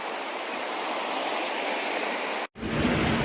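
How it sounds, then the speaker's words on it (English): A swollen river rushing hard after days of rain, far wider than its usual channel: a loud, steady roar of churning water that fills the clip, broken by a brief dropout near the end before the rush returns. "This river does not look like this normally. It is much wider than we're used to it."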